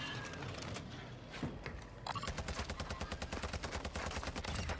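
Sakin MG38 light machine gun in Warzone 2 at Vondel Park: a few scattered shots, then a fast, steady automatic burst of evenly spaced loud cracks lasting several seconds.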